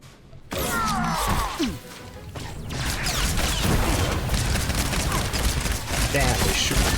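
Enemy gunfire in the video game SWTOR, a dense, continuous barrage of blaster shots and impacts following a sweeping whoosh, loud and sustained throughout with game effects layered over it.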